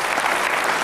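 Audience applause on a Hungarian late-night talk show, a dense, steady patter of many hands clapping at even loudness for the whole short stretch, with no voices over it.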